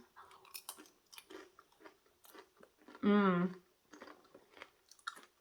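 Someone chews a bite of homemade salsa up close with soft, wet crunching bites between pauses. A short, loud voiced hum cuts in partway through.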